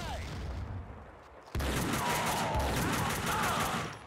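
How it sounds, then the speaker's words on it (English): Explosions and gunfire from the video game Max Payne 2 fill the scene, starting as a muffled rumble and then breaking into a loud, dense, sustained barrage of booms and shots. "Things are exploding."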